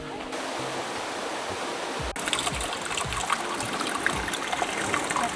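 Stream water flowing along an outdoor route by an Irish castle, a steady broadband rush that turns fuller and louder after a brief dip, continuous without talk.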